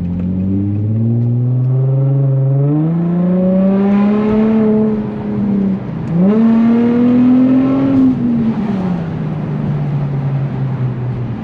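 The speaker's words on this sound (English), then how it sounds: "I definitely wanted to do this in my Infiniti G35. Show y'all what this thing sounds like at night." An Infiniti G35 with a loud exhaust pulls hard on a night drive, its engine note rising through the revs in two strong runs with a brief shift dip between them, then easing off, close and loud with no talking.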